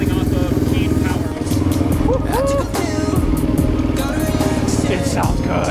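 A desert racer build's engine runs steadily at idle close by, a loud, even rumble with light mechanical clatter, while someone speaks over it.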